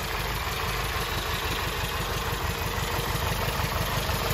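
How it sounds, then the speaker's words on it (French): A 1971 Lancia Fulvia 1300 S with twin carburettors idles steadily, a low, even engine rumble with a fine high-pitched whine above it, close and continuous with no voices. "Et elle tient très très bien son ralenti."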